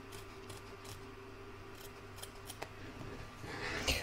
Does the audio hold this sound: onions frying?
no